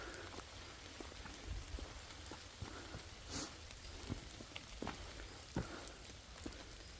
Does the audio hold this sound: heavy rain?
yes